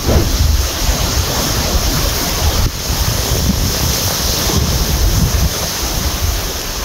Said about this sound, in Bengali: ঢেউয়ের আওয়াজ তো কন্টিনিউ আসছে